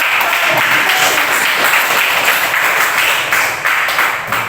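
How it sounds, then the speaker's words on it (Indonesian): Students in a classroom clap together in a lively burst of applause, a dense, loud patter that holds steady for several seconds and then eases slightly toward the end, with no talking over it. "Tepuk tangan dulu buat"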